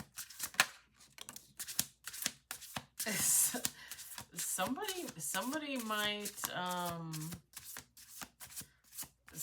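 Quick riffling card shuffles with crisp flutters, mixed with someone talking and a rising, whistle-like tone.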